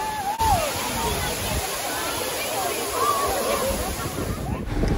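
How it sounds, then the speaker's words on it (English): Waterfalls in the Dominican Republic give off a constant, loud rushing roar of falling water, with faint voices mixed into the wash. "More beautiful waterfalls in the Dominican Republic."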